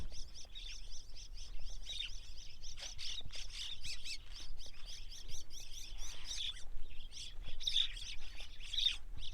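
Myna birds chirp busily around their burrow nests dug into a mud bank on a river island char, a dense, continuous chatter of overlapping calls at moderate distance with no talking.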